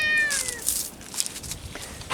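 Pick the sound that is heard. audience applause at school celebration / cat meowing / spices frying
cat meowing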